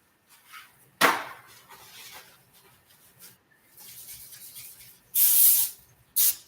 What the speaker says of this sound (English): I am just spraying the top here so that I can wipe the edges off in case they run over.